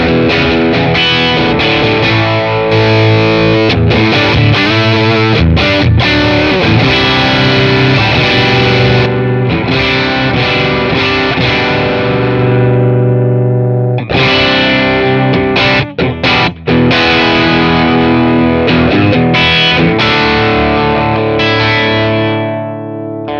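An electric guitar played through an Orange Dual Terror amp head with gain just past noon, loud distorted rhythm chords ringing out with brief pauses and a sustained chord fading at the end.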